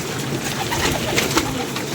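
A pigeon coos close by in soft, low, rounded notes over a steady background hum, with no talking.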